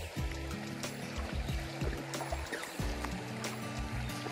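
A river widening along a green, overgrown bank, its water flowing with a steady broadband rush and trickle, close and continuous, with faint background sounds but no talk.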